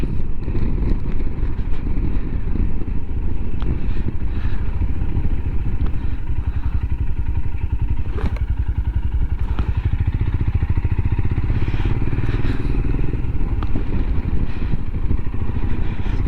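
A Royal Enfield Himalayan motorcycle engine, fitted with a 36T rear sprocket, rumbles steadily at low revs in second gear, loud and close, with wind buffeting and occasional clatter throughout.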